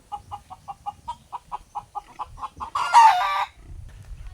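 A chicken clucks in a steady, rapid series of short notes, then breaks into one loud, drawn-out squawk, close and clear with no talking.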